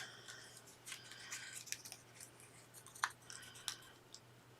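Scissors snip through paper scraps, with a run of quiet, crisp cutting clicks and rustles at close range over a low steady hum, and no one speaking.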